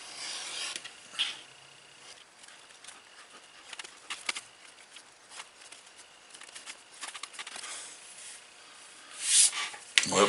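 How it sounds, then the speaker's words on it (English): Edge beveler scraping along the edge of a leather single-pocket card wallet, a soft repeated rasping rub in short strokes, close and quiet, with a louder scrape near the end. "bevel this before I mark it"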